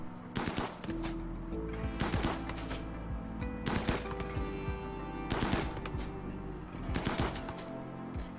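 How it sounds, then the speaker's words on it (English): Gunfire from colonists hunting beavers in the video game Rimworld, five bursts of rapid shots spaced about a second and a half apart over a continuous droning game soundtrack. "Oh, there's another one being shot."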